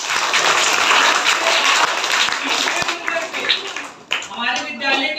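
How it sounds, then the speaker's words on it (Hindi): Audience applause at a school Children's Day event, a steady wash of clapping from a crowd that fades and thins toward the end, with a voice briefly talking over it near the close. "इनके लिए भी तालियां बजाई जाए"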